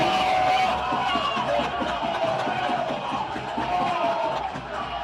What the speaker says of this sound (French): Je pense qu'on peut les applaudir, faire un maximum de bruit, pour qu'ils soient là.